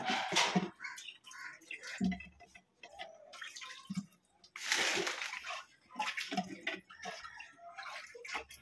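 Water sloshing and pouring out of a glass fish tank as it is washed, irregular splashy bursts with short pauses between pours, fairly close.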